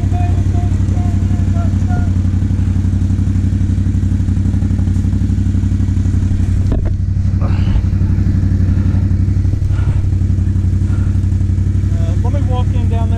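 An XMR 570 dirt bike engine runs loud and close at a steady throttle, stuck at an off-road park, with a brief thump midway and faint voices under the droning engine.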